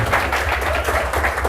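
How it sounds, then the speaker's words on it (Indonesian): An audience claps for a guest invited onto the stage at an evening show, a dense, even burst of applause from many hands filling the whole moment. "Tepuk tangan dulu."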